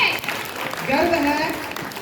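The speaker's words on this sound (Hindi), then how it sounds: "जोरदार ताली होनी चाहिए।" Guests at a school welcome party applaud in a short, moderately loud burst of clapping, with a few voices and the hum of the hall underneath.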